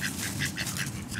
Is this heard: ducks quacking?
yes